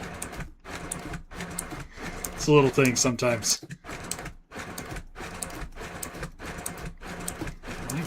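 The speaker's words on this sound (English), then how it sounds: "My printer is not having it." A home printer runs in steady repeating mechanical passes, with a brief burst of whirring and clicking midway, as a person talks over it.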